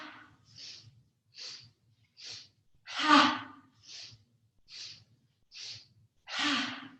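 Deep rhythmic breaths during a yoga breathing exercise, a series of short, regular airy inhales broken by two longer, louder exhales, close to the microphone with silence between.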